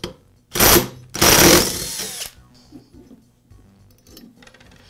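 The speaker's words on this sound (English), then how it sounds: "I'm going to use an impact to remove the flywheel nut" An impact wrench removes the flywheel nut on a Poulan chainsaw in two loud, close bursts of rattling hammering, the second longer, followed by quieter clinks and handling noises.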